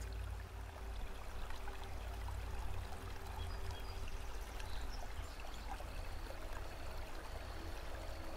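River water rushes and pours steadily in the fantasy world of the game ELEX, a continuous full-bodied flowing roar with no talking over it.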